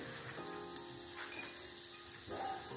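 Onion roasting in a pan for a spicy patodi rassa curry gives a steady soft sizzle with light scraping and stirring clicks, close and continuous, no voices.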